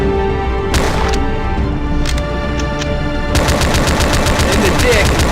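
Rapid automatic gunfire from a video game set in a ravaged city with a tank battle, bursts of shots giving way to a steady, loud machine-gun rattle near the end, with game sounds and music underneath.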